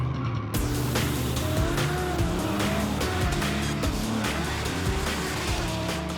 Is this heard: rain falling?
no